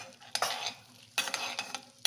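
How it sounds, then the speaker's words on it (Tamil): Cumin seeds frying in lightly melted butter in a pan, a soft sizzle punctuated by several close scraping stirs over about two seconds. "ஜீரகம் கொஞ்சம் பொரியணும்."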